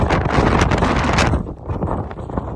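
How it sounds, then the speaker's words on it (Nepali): Wind blows hard across the microphone in loud rumbling gusts, briefly easing midway before surging again, with faint rustling underneath. "अहिले चाहिँ हावा यस्तो यस्तो हावा चल्यो"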